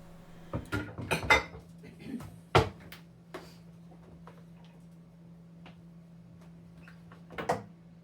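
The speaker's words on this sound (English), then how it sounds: "when I pull the dishes out of my dishwasher, I do rinse them" Dishes are unloaded from a home dishwasher: sharp clinks and clatters of plates and cutlery come in quick clusters, then fall quiet over a steady low hum, with one last clatter at the end.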